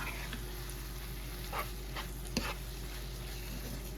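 Ground beef, black beans and onion frying in a pan give a steady soft sizzle with occasional faint clicks and a brief clatter, close and fairly quiet.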